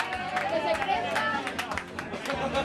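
An audience at a Tractor Ebro association slideshow gathering breaks into scattered, uneven clapping mixed with crowd chatter and voices.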